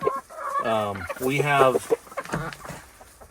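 A rooster and chickens clucking and crowing up close, with a person speaking briefly over the birds.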